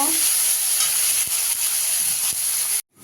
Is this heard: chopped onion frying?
yes